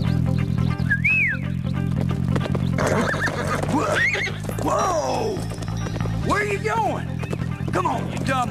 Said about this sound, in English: Come on, you dumb horse. Not that way.